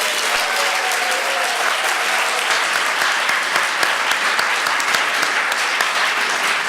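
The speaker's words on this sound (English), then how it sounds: "we need to have a round of applause for these debaters, whatever the result." Audience at a city debate applauding the debaters, dense continuous clapping from a large crowd, loud and sustained throughout without a break.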